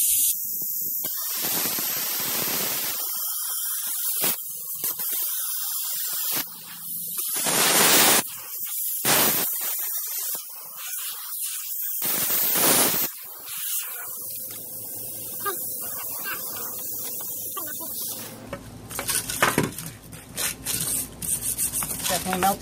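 Cutting torch hissing steadily as it cuts around a circle on a VW bus front beam, a loud broad rush that pulses and drops out in bursts, ending with rattling clatter.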